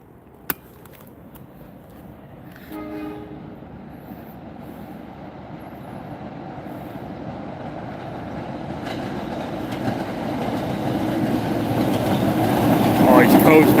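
A Staten Island Railway express train approaches and passes, its rumble and wheel clatter growing steadily louder. A brief tonal call and a sharp click sound early on.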